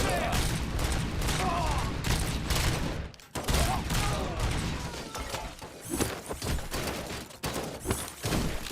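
Sustained covering gunfire rattles in the RoboCop video game, dense bursts of rapid shots with loud impacts, a brief pause, then more volleys, while voices shout over the firefight.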